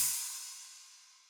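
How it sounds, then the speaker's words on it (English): A single ride cymbal sample from a dubstep beat rings out with a bright, shimmering wash that decays slowly, following the brief end of a spoken word. "And then a ride."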